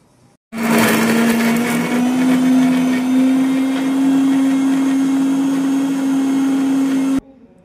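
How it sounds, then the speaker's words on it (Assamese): An electric mixer grinder grinding fried spices for gravy: a loud, steady motor whine that starts abruptly, runs about six and a half seconds with a faint rising pitch and gritty rattle, then stops sharply. "এইখিনি মিক্সিত মই গ্ৰাইণ্ড কৰি ল'ম ধুনীয়াকৈ"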